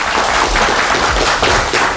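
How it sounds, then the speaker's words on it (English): A television game show studio audience applauds in a dense, steady wash of clapping for two seconds, loud and continuous without talk. "Clap, laugh, do it all."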